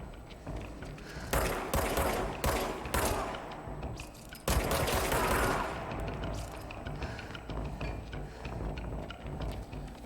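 Shotgun blasts in the game Control come as sharp loud bursts in a quick cluster early on, then a heavier barrage, followed by lighter clicking and rattling combat noise at a lower level.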